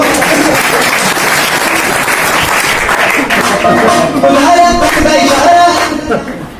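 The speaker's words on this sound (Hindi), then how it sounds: "ताली बजानी है" A large audience claps steadily and loudly at a business gathering, a dense, sustained wash of applause that swells slightly before tapering off near the end.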